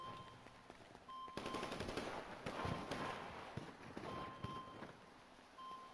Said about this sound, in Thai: มันยิงมา